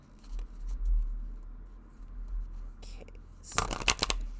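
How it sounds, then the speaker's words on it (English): A deck of flexible Seed Tarocle cards is shuffled, a quick crisp burst of riffling flutter near the end after a quieter stretch with faint handling. "you might have a little bit of trouble shuffling. So you can shuffle that way."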